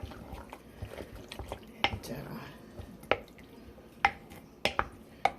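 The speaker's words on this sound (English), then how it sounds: "stir that up." A chunky, meaty tomato sauce being stirred in a pot, giving soft wet squishes and scraping with sharp drip-like clicks, close and fairly quiet, with no talk.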